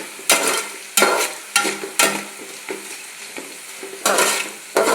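Jackfruit pieces deep-fry in hot oil for chips, a steady sizzle broken by sharp, repeated scraping stirs of a ladle about once a second, close and loud.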